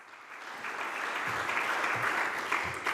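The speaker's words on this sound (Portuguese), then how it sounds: "Um aplauso, por favor." A room full of people at the CCB claps steadily for the Bolsa Amélia de Mello 2026 ceremony, a dense, moderately distant round of applause that holds at an even level throughout.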